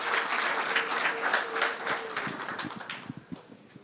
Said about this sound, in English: Another round of applause for His Excellency.